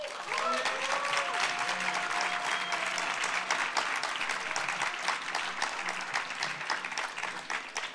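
An audience at a political talk gives warm applause, dense sustained clapping from many hands with faint crowd murmur, steady throughout.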